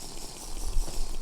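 A water bottle filling in Minecraft with the Real Tech modpack: a brief, soft bubbling gurgle of water held steady for about a second.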